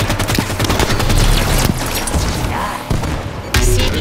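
Rapid gunfire and heavy impacts in a Halo 5 Warzone battle, dense loud bursts of shots and thuds with brief pauses, set against game background sound.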